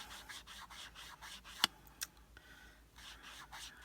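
A sponge rubbed back and forth across paper for stamping makes soft, rhythmic brushing scrapes, close and quiet, with one sharp tap partway through.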